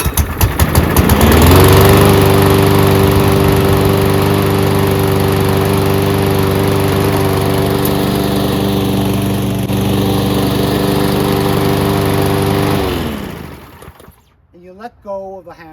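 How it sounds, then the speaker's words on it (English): Powersmart 170cc gas self-propelled lawn mower engine running loud and steady close by for about thirteen seconds with a constant harmonic drone, then cutting off, followed by a brief voice. "When the engine's on, you're not going to be able to hear me."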